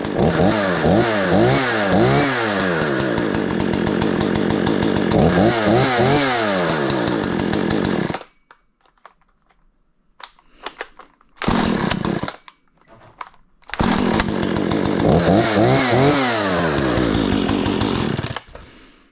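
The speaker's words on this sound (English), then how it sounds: "And this one doesn't even jerk anymore because my dad used it a lot. Fires that first pull." A Husqvarna 455 Rancher chainsaw, a 2012 model, fires on the first pull and runs loud and close with repeated revving bursts, cuts out briefly with short sputters, then roars back up to a steady high whine.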